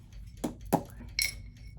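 A Walmart glass tumbler clinks softly a few times as it is handled, the sharp clinks standing out against quiet room tone.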